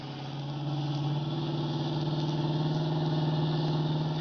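A car engine in a radio-drama chase scene, a steady mid-pitched drone that swells slightly as it accelerates, loud and continuous with no voices over it.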